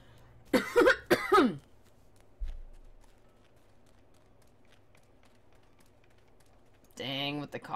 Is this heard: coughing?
yes